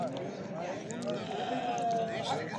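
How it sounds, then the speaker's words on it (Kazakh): Sheep and goats at a village livestock market bleat in a wavering, fairly close call over a busy crowd murmur, with people talking throughout. "улак, койлор турат мына жерде."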